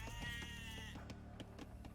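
Sheep bleating in the real-time strategy game Age of Empires, a short wavering bleat in the first second followed by clicky game sounds and soft background effects.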